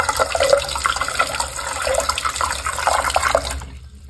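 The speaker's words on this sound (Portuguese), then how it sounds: "aqui eu vou colocar água na cuscuzeira" Water runs steadily into a couscous steamer in a kitchen, a continuous close splashing and trickling pour with small bubbling glints, which stops abruptly just before the end.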